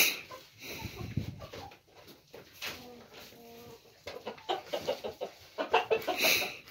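A small flock of about 25 backyard chickens clucks and murmurs nearby in irregular bursts, with brief soft sounds between calls.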